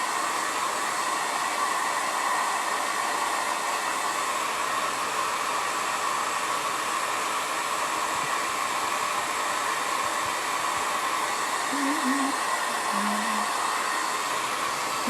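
A blow dryer runs steadily throughout, a constant loud whirring hiss with no break.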